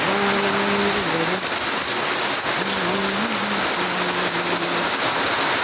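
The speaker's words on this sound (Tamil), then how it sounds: "சரியான மழை இன்னைக்கு" Heavy morning rain falls as a steady, dense hiss, loud and close throughout, with a few faint tonal hums drifting in and out underneath.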